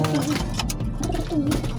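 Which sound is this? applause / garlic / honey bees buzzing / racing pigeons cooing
racing pigeons cooing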